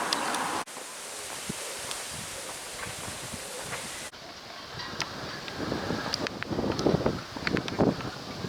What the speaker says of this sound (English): You just love the sound of the wind in the halyards.